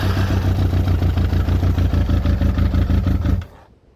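Yamaha YZF Thunderace motorcycle engine running loud and close with a rapid, steady pulsing beat that cuts off abruptly near the end, leaving faint background.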